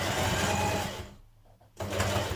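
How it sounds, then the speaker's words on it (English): A home sewing machine stitches close along each edge of a skirt belt loop, a steady mechanical whir that pauses briefly midway, then resumes at full speed, close and loud with no talking. "we're going to stitch close down each side of the belt loop, so close to the edge"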